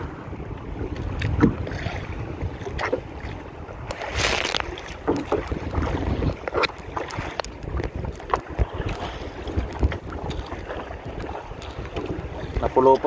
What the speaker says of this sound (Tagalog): Hangin pa.